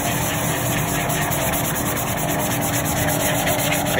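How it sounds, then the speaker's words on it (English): Wood is sanded by hand while a Hafco Woodmaster DC-2 dust collector runs its suction, giving a loud, continuous rubbing rasp over a steady roar. "I'm going to do the same thing, but I'm going to sand around in the same area"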